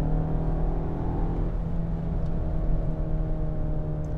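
A 2021 Kia Sorento S in sport mode accelerates with a steady, close engine drone and a low hum that holds level throughout, with no talking.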